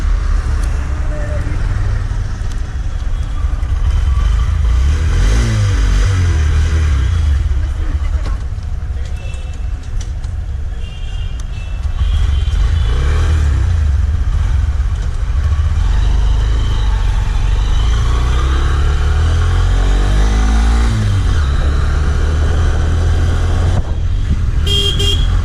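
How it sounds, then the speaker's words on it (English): A Honda Shine BS6 motorcycle rides through city traffic, its engine and road noise a loud, steady rumble, with other vehicles passing close by and a few car horn toots. "now we'll ride this bike inside the city and I'll be showing you how it performs"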